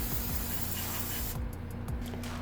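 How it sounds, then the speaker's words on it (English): Brake cleaner sprays in a loud continuous hiss onto oily motorcycle parts, close to the mic, then breaks into a few short bursts near the end. "Some brake clean now. We're going to spray down in there"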